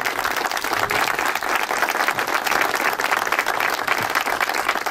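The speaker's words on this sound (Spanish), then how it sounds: "les pido hoy un nuevo aplauso para ellos" A crowd at a trade union gathering claps warmly and continuously, the applause dense and even throughout with a faint murmur of voices mixed in.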